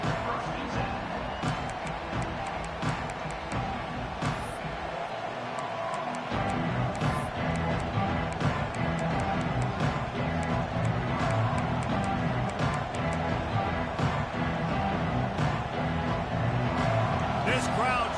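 Dense stadium crowd roar from a college football video game, a steady loud wash of noise lasting throughout with a brief dip, while commentary runs over it.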